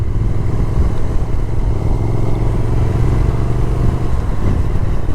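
A Triumph Speed Twin motorcycle rides along with a steady, low engine drone and continuous road rumble, close and even throughout, with no talk.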